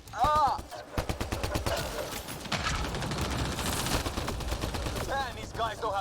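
Rapid gunfire in the video game Mass Effect: Andromeda, dense bursts of shots under a voice and battle noise, with a brief lull before firing resumes loudly.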